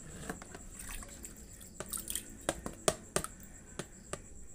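Cooked boba pearls poured into a container of cold water, making soft scattered drips and small splashes, irregular and quiet, close by, with no voices.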